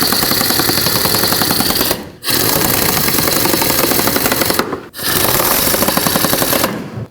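A ratchet with a 10mm socket snugs up bolts on a Chevrolet Express, a loud close rapid clicking that runs in three bursts with short pauses between.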